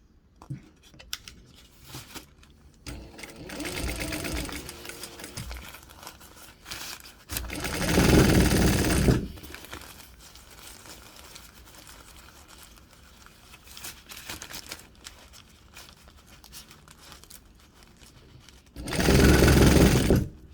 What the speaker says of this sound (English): working around on the inside of the bag now, sewing from the inside to the outside